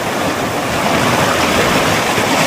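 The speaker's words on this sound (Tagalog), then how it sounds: "Mataas yung alon ngayon." Steady broadband roar of high, rough ocean surf heard from a boat deck, loud and continuous with heavy churning water and no gaps.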